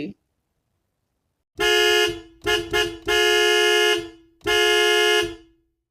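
Car horn honking on a dark, rainy night: five loud, close honks, a short one, two quick taps, then two long sustained blasts, with quiet gaps between.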